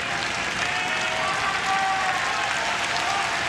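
A tennis crowd at the US Open applauds in a dense, continuous wash of clapping, steady and fairly loud throughout, with no talk over it.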